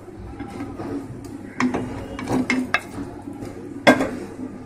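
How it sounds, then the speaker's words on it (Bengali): Pieces of fish are slipped one by one into a pot of boiling thin fish curry broth, giving a few soft splashes and clinks over a low, steady kitchen background. "এবার আমি একে একে মাছগুলো দিয়ে দেব"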